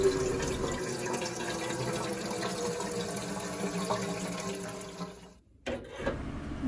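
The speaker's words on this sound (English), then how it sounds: "you're going to want to fill some type of kettle, whether it be electric or metal, to put on the stove with enough water" A kettle filled with water from a tap to brew French press coffee, a steady close gushing stream that runs continuously, then cuts off near the end.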